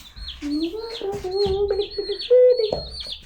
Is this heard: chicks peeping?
yes